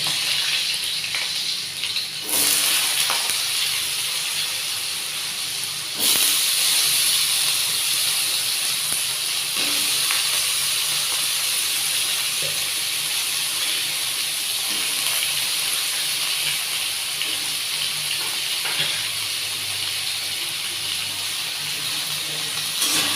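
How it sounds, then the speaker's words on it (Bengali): Cumin seeds and dried red chillies sizzling in hot oil in a home kitchen, a steady loud hiss throughout with a few sharper crackles and surges, no talking. "প্রথমে এই যে সাদা জিরে আর শুকনো লঙ্কা ফোড়ন দিয়ে দিলাম"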